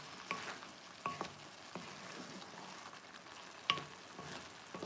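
Thinly cut negi sizzling in a pan with komatsuna, a steady quiet fry with a few clicks and scrapes of stirring.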